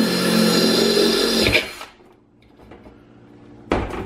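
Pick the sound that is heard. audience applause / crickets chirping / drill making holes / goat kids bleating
drill making holes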